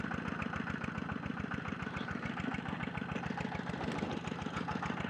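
An oil-powered clay mixer machine runs at a brick kiln with a steady, rapid chugging engine pulse, close and continuous throughout, with no change in pace and no voices.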